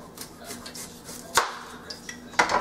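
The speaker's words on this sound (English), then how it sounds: "chopping the onion." A knife taps against a cutting board in a few irregular, sharp chops of an onion, close and fairly quiet in an otherwise still kitchen.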